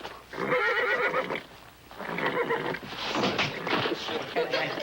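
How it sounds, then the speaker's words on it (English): A horse neighs loudly and repeatedly, several shrill whinnies close by, with faint thuds of movement in between. "That horse is loco."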